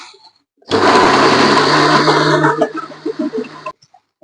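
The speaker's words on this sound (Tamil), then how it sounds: "ரொம்ப மையா அரைக்க கூடாது, கொஞ்சம் குறை குறைன்னு அரைச்சிக்கோங்க" A mixer grinder coarsely grinds tomatoes for a thanni chutney, roaring loud and close for about three seconds, then running in short uneven pulses before it stops.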